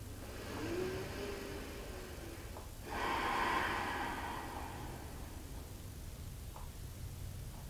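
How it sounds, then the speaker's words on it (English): Slow, deep breaths taken while resting in wide-kneed child pose come as soft airy swells, one near the start and a louder, longer exhale around the middle, over a quiet room hum. "Take some deep breaths."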